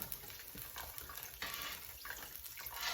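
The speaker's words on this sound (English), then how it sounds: "I keep my teapot on here so I can just add my water" Water pours from a teapot into a pan of Puerto Rican style Spanish rice on the stove, a faint, steady splashing hiss that lasts throughout with no voices.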